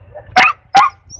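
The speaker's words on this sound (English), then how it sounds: "Sorry about the barking incident." A dog gives two sharp, loud barks close by at an outdoor campsite in Nebraska National Forest, with a quiet low rumble of background between them.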